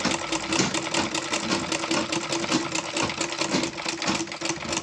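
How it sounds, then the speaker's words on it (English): A sewing machine stitches a wallet with a fast, even, rhythmic whir and clatter that stays close and loud throughout, with no speech. "And I will sew carefully like that. I'll sew carefully. And I'm sewing now."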